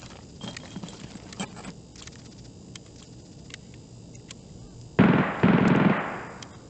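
Sharp gunshot cracks pop sporadically in the distance in the video game Escape from Tarkov, followed by a louder burst of rapid fire near the end.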